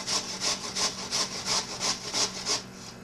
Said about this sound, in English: So all you do is just grate it.